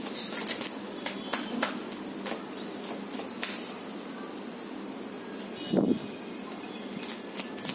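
Oracle cards shuffled by hand for a tarot reading, with soft repeated riffling and flicking taps, faint and close, and a brief louder rustle near the end.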